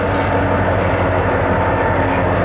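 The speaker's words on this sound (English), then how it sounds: "This is the CNF coming out to go to Albertus, run around his train, and go to Chapman's." A CNF freight train pulling out of East Bend Yard gives a loud, close, steady diesel locomotive drone with a deep throbbing engine note and no break.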